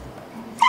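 A hungry pet dog whines and barks for its dinner in a home kitchen, a faint low whimper followed by a sharp, louder bark at the end, with no talking.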